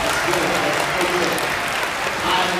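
A room of middle school students claps together in sustained, dense applause for a little under three seconds, loud and close, with some crowd noise mixed in.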